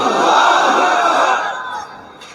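A crowd shouts the takbir chant together, one loud, sustained roar of many voices that fades over about two seconds.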